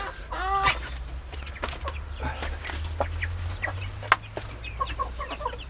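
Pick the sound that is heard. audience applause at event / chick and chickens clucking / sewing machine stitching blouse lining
chick and chickens clucking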